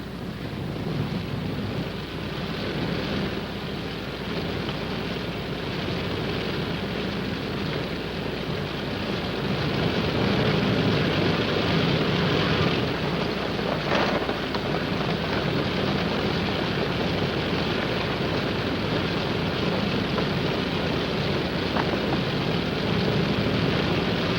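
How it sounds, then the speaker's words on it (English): An airplane flying casualties out from a frozen reservoir during the 1951 Korean War, a continuous droning engine roar that stays loud and steady for the whole stretch, with no voices. "And the casualties go out by plane."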